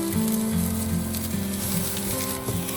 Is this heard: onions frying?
yes